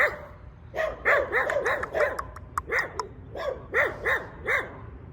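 A dog barks repeatedly in short, sharp bursts at a moderate distance, with an irregular rhythm and a few higher yips mixed in.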